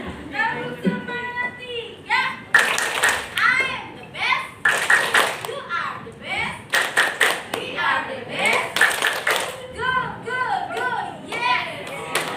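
Children clap together in a counting clap game, several sharp bursts of group hand claps in rhythmic clusters, with kids' voices and an adult talking between and over the claps.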